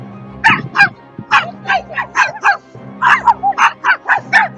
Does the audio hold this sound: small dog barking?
yes